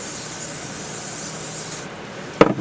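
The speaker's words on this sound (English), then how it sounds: "I'm going to put this adhesive, this mold spray in here." Apel BK30 mold release lubricant is sprayed into a mold for an epoxy and cherry bowl turning, a steady close hiss lasting nearly two seconds, then a brief knock.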